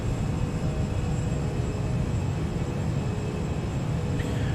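A Cathay Pacific A340 airliner climbing in Microsoft Flight Simulator 2020 makes a constant, even roar of engine and air noise, a dense broadband rush with no breaks or talk.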